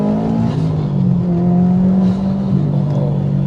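A 456bhp 2.1-litre stroker Subaru Impreza WRX STI pulls hard in second gear under high boost, with a loud, continuous, rising engine drone and a gear-change dip heard from inside the car.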